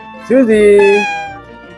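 A cat at a cat hotel gives one clear, close, drawn-out meow that rises and then holds steady before fading.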